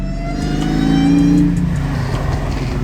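A Chevrolet Camaro SS fitted with a ZL1 body revs and accelerates nearby, the engine rising to a loud, throaty peak before easing back, heard on its own without any talk.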